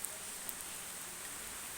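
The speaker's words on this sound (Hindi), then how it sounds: "ये मौसम भी देखें तो बारिश हो रही है" Steady rain falls outdoors in a village, a soft even hiss throughout with no distinct drops standing out.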